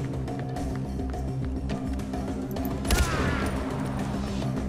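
Gunfire in the Far Cry 4 video game: a run of sharp, clipped shots over steady background game sound, ending with a louder close blast that leaves a ringing tail.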